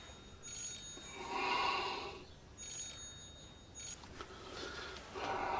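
Telephone ringing in a repeated electronic pattern, bursts of tone separated by short pauses, fairly quiet and alone without talk.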